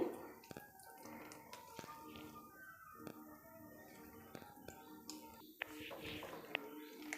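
Faint trickling and dripping water with scattered light clicks and taps, fairly quiet and close.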